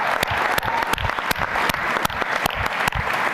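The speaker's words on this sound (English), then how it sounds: "We should also give a round of applause to Gloria Longino" An audience at the 2019 BIDA awards ceremony applauds steadily, a dense wash of many hands with a few sharper claps standing out, loud and sustained throughout with no speech.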